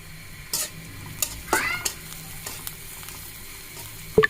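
Onion frying lightly in a pan with turmeric, chili and coriander powder added, giving a soft steady sizzle broken by a few scraping stir strokes and a sharp utensil clink near the end, with no voices.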